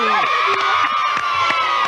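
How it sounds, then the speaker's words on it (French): A studio audience at a French children's TV show cheers and whoops loudly, excited voices shouting together in a brief burst of enthusiasm. "Il y a Mathieu, qu'on peut applaudir."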